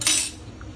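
A spoon pries open a crab shell for cleaning in a kitchen, giving one short, close metallic scrape and clatter at the start. After that only a faint low background hum remains, with no talk.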